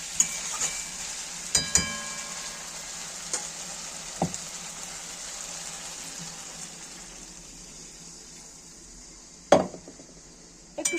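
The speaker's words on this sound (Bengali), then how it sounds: "এবার আমি জল দিয়ে দেব।" Water is poured into sizzling spices frying for a Bengali bata fish curry with potato. A close, steady hiss is broken by occasional clinks of a spatula on the pan, then a sudden loud splash near the end.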